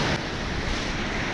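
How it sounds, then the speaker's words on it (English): Waves breaking on a cold shore of ice-coated rocks in brutal winter temperatures, a steady broadband wash of surf with wind noise buffeting the microphone throughout, loud and close. "See how big these waves can come up."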